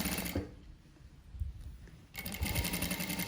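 Sewing machine stitching a princess line frock, a steady close mechanical whir that drops off briefly and then runs again at full speed.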